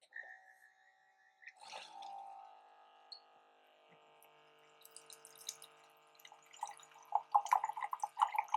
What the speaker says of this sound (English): as soon as I push power, the pump's going to start, and it's going to take within 5 seconds, and the water is going to come out of here